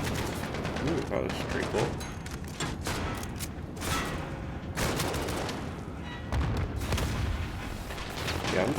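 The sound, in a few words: AK-47 gunfire in Call of Duty Modern Warfare video game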